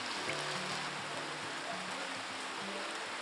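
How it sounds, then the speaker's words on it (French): Steady rain falls on sunflower fields in Rwanda, a dense, even hiss of drops continuing without a break and fairly loud throughout. "Depuis ce matin, il pleut."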